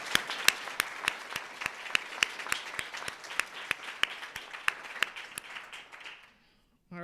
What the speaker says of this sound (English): Can you join me in applauding all of our presenters today one more time?